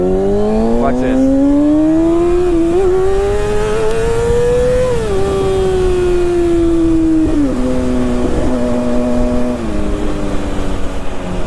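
Kawasaki Ninja sport bike engine revving loudly and steadily, pitch climbing, dipping and climbing again over several throttle changes, close and continuous with no talking.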